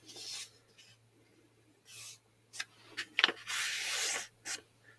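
A sheet of paper is folded in half and then in half again, with crisp close rustles and sharp swiping crease strokes in several short bursts, and no talking.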